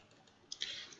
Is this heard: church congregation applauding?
no